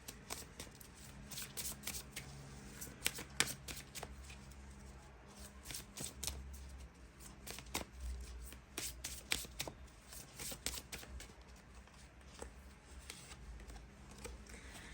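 A small deck of tarot cards is shuffled by hand, quiet riffles and soft flicks arriving in irregular bursts and pauses, close and faint, with no voice.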